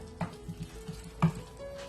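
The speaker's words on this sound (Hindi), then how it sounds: "2 अदद दरमियानी साइज़ की प्याज स्लाइस में कटी हुई आप इसमें ऑयल में डालेंगे" Two medium onions, sliced, frying in oil in a pot for turai gosht, a soft sizzle with light irregular stirring knocks and scrapes up close.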